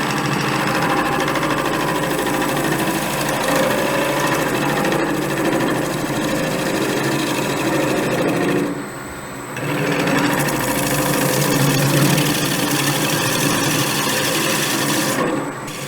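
Wood turning on a lathe with a skew chisel shaping a spinning workpiece, a continuous loud scraping, rasping whir that dips briefly near the middle before resuming, with no talking.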